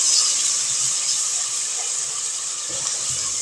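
About three spoonfuls of garlic fry in a pan for homemade potato tahiri, giving a loud, continuous hissing sizzle that holds steady from start to finish with no talk.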